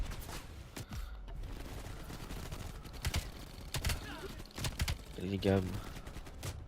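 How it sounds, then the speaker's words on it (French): Gunfire in the Call of Duty Black Ops video game: several sharp shots and short bursts ring out over a steady game backdrop, with someone talking through much of it. "Oh les gars, j'arrive pas à lui mettre des balles."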